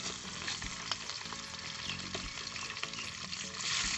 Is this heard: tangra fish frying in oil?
yes